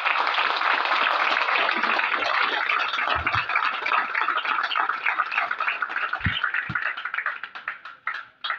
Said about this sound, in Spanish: Puede aplaudir a Dios antes de sentarse.